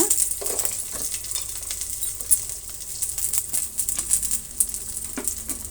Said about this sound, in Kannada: ಕಟ್ ಮಾಡ್ಕೊಂಡಿರುವಂತಹ 2 ಈರುಳ್ಳಿ ಮತ್ತು 8 ಒಣಮೆಣಸಿನ್ಕಾಯಿ, ಕರಿಬೇವಿನ ಸೊಪ್ಪನ್ನು ನಾವು ಫ್ರೈ ಮಾಡ್ಕೊಳ್ಳೋಣ.